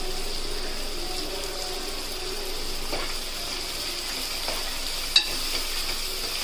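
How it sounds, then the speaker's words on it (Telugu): Sliced onions, green chillies and curry leaves softening in a pan for dry fish pulusu, giving a low, steady background sizzle with a faint hiss, a few soft stirs and one sharp clink near the end, no talking. "ఇది మంచిగా మగ్గాలండి ఉల్లిపాయలు మొత్తం సాఫ్ట్ అయిపోవాలి"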